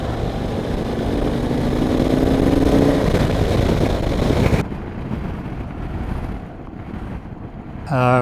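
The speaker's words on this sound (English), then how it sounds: "That was pretty strong crosswinds across that section there." Strong crosswind buffets the rider on a motorcycle fitted with mini ape handlebars, a constant loud rumbling roar against the microphone that shifts and thins partway through, with the engine droning underneath.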